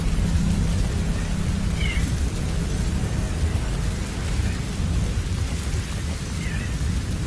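Thunderstorm with heavy rain in Metal Gear Solid 5: The Phantom Pain, a steady loud wash of downpour with deep rolling thunder rumbling underneath throughout.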